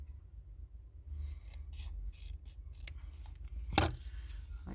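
Scissors snip through Christmas paper decorations printed with Merry Christmas, a soft rustling and scraping of blades against paper with one sharper cut standing out, close and quiet.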